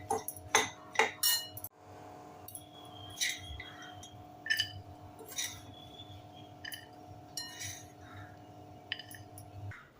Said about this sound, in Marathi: मिश्रण एका थाळीत काढून घेऊया